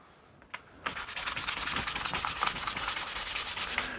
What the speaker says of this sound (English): Now this is a bit of 3M 220 grit. And I just sand a little bit of the finish off the top.